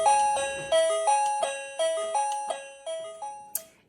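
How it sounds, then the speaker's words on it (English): A KERUI wireless electronic doorbell chime plays a repeating melody of ringing two-note dings, bright, clear and close, ending with a short final tone. "And then it gives me a little chime that he's standing at the door and ready to come in."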